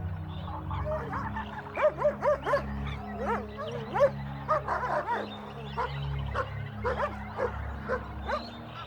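African wild dogs of a pack on open African plains give a run of high yipping, twittering calls and whimpers over a low steady rumble, several close bursts spread across the clip with no speech.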